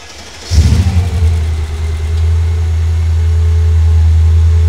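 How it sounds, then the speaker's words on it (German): A V8 engine fitted in a classic Mercedes SL cranks and catches with a loud burst, then settles into a deep, steady, rumbling idle close by. "Man hört schon beim Schlüssel umdrehen, wie so ein neues Auto klingt."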